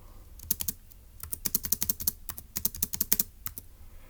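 Rapid keystrokes on a computer keyboard while working through a Turing Machine logic puzzle, clacking in uneven bursts and clusters with short pauses, close and fairly loud, no speech.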